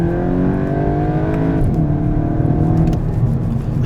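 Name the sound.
Volkswagen Golf GTI engine revving after downshift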